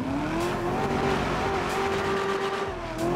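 A loud in-game car engine from GTA 5, a Rolls-Royce Phantom or Bentley Mulsanne, drones steadily and close with a rising tonal whine throughout, alone without talk.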